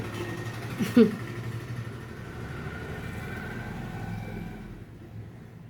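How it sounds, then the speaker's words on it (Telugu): A small auto rickshaw engine rumbles nearby and fades gradually as it moves away, with a brief clatter near the start. "మళ్ళీ ఆటో సౌండ్"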